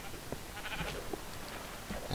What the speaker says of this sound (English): There's a sheep. Sheep, sheep, sheep.